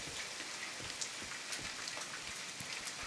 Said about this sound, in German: Und da kommt auch der Herr Regen.